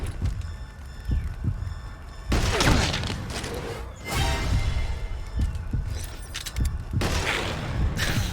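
Bursts of automatic AK-style rifle fire from the video game Metal Gear Solid 5 crackle in dense rattling volleys. Several loud clusters come in quick succession with short gaps between them.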